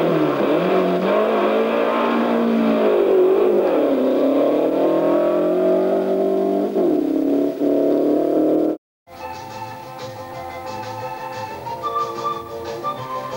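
A 1960s drag racing car launches hard off the start line, its engine roaring loudly and rising and falling in pitch as it pulls away, then cuts off abruptly into a quieter stretch of distant noise.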